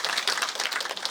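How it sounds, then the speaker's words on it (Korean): Brief burst of audience applause at a book-launch Buddhist ceremony in Busan, many hands clapping in a steady, moderately distant patter welcoming a sculptor. "이상배 조각가님을 박수로 환영해 주시기 바랍니다"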